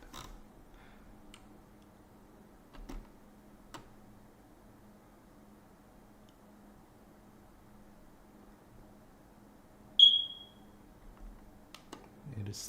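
A single short, high-pitched low-battery chirp from a smoke alarm sounds once in a quiet room, amid faint clicks and low background hum.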